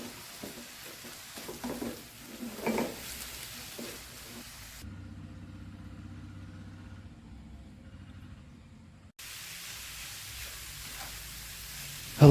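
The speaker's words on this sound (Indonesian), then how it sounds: "diaduk-aduk aja sampai semua tercampur" Young jackfruit stir-fry is stirred in a pan with close scraping and faint sizzle, broken by a quieter, muffled stretch in the middle before the stirring noise returns.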